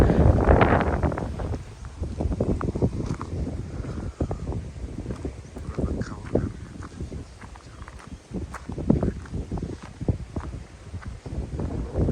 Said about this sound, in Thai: ตอนนี้เช้าแล้วดูสิครับ ลมแรงมากนะครับ